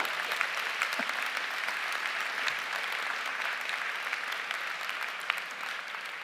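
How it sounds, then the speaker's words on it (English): Sustained applause from a large audience at a school recognition ceremony honoring graduates' parents, an even, dense wash of clapping lasting several seconds without speech. "I want to acknowledge and applaud all the parents who've been supportive of our graduates."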